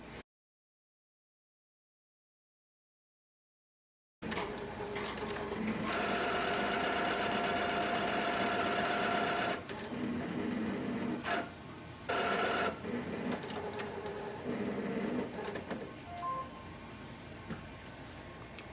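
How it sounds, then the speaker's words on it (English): Brother MFC-J4535DW inkjet printer running a print head cleaning cycle: steady mechanical whirring and buzzing, loud and close, with brief pauses and shifts in pitch, after a few seconds of silence; no voices. "Print head cleaning is done."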